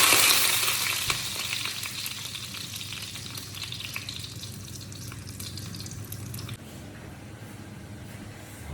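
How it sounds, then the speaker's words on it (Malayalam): Frozen french fries bubble and crackle in hot oil, a loud, dense sizzle that starts strongest and eases slightly as it continues steadily and close, with no talk. "ഞാൻ ഇനി കുറച്ച് പൊമസും കൂടെ പൊരിക്കാൻ വെച്ചു"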